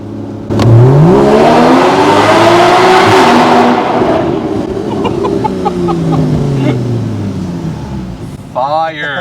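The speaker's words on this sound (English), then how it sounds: "That soul exhaust is crazy. It goes so hard." A full carbon fiber Nissan GT-R revs hard inside a tunnel. The loud exhaust rises and falls in repeated booming sweeps that echo off the walls, then eases off near the end.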